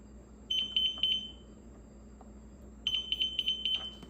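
A METAK window and door alarm, set to its gentle open-warning mode, gives two bursts of rapid, high, even beeps, each about a second long, with a short quiet gap between them and no talking.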